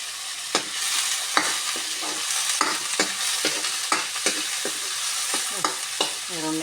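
Onion sautéing in a pan with garlic for a taro and shrimp vegetable dish, a steady sizzle broken by repeated scraping stirs of a utensil, moderately loud and close, with no talk.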